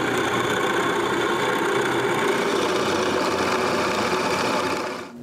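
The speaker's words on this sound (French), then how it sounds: "Je perce les trous pour le tambour." A drill boring holes in wood for the drum of a musical nutcracker, one continuous loud whirring run that cuts off abruptly near the end, alone with no voices.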